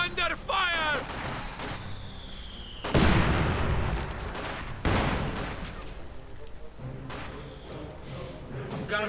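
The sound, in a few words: gunfire in a strategy video game battle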